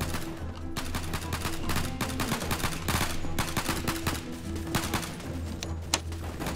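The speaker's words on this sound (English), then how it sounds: "Someone's shooting something." Video game gunfire in a military roleplay setting comes as dense, rapid bursts of shots. They overlap into near-continuous volleys, loud and close, with a steady low hum beneath.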